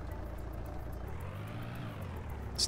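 An old junkyard truck's engine runs steadily while driving, a low continuous rumble with a brief louder burst at the end and no talking.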